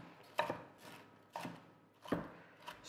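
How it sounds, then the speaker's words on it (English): A knife chopping ingredients for a budget pasta dish on a board, four soft close thuds at an unhurried, slightly uneven pace, faint and without talk. "So just chop it up."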